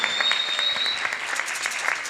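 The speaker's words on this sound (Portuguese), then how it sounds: "eu queria que vocês batessem palmas." An audience at a university literary festival claps loudly and continuously, a dense and even patter of many hands with no talk over it.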